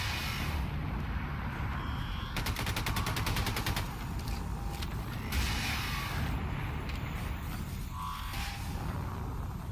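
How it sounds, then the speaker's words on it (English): Magnum-loaded pistol fire in the Wolfenstein 2 shooter, a steady stream of sharp shots, with a rapid rattling volley in the middle, set against dense in-game noise and mechanical clatter. "That pistol is surprisingly effective. Everything's effective when you have magnum ammo."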